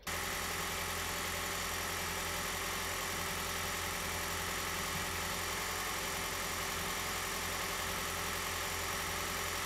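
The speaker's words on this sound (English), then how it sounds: "if the hybrid battery is low, the engine will start." Toyota Corolla Hybrid gasoline engine idling steadily after starting, a continuous even hum with faint vibration, recorded close with no talking.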